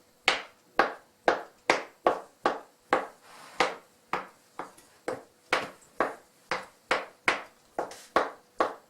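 A knife chops smoked sausage on a board for pie filling, striking in a quick, even rhythm of about twenty sharp, close knocks with no talk.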